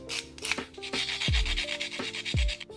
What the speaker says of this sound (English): If the connector doesn't quite fit, you'll want to sand down the edges a bit.